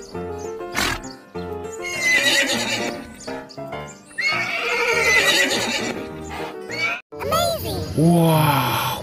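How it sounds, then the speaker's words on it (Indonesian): A horse neighs in loud, quavering whinnies mixed with clip-clop hoofbeats and snorts, repeating over several seconds with a short break near the end, under some voices. "ini seekor hewan kuda"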